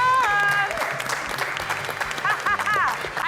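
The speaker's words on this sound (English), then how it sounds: "can we give massive, massive applause to our winners, the Jaegers?" Studio audience applauding and cheering for the winning family on a Nigerian Family Feud game show, a loud sustained wash of clapping with voices and music-like tones woven through.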